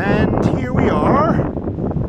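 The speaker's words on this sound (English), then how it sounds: "You may not be able to hear me over the wind" Strong wind roars across the summit of Dragontail Peak in the Cascades, buffeting the microphone with a steady rush while a voice is partly heard beneath it.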